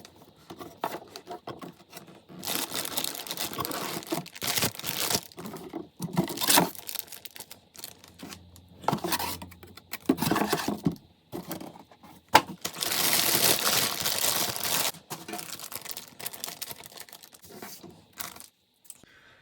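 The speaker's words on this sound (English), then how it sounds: "open this up. See what's inside. It's quite a packaging." Packaging of a Logitech G29 racing wheel is opened up close by, with intermittent crinkling, tearing and rustling of cardboard and plastic, quiet and fairly continuous, with no talking.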